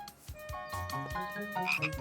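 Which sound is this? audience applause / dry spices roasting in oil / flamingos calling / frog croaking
frog croaking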